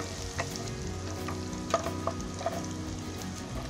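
Onion frying in a pan for tofu bhurji: a steady, close sizzle with scattered spoon clinks as it is stirred, no speech.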